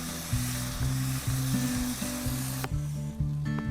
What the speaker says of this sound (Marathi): तेल तापले आता आले लसूण मिरचीची पेस्ट टाकून घेते। पेस्ट मस्तपैकी परतवून घेऊ।